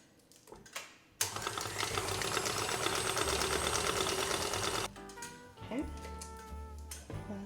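An electric mixer whirs steadily for several seconds, beating butter, egg and vanilla for Christmas cookies, loud and close, starting abruptly and then stopping, with brief speech around it.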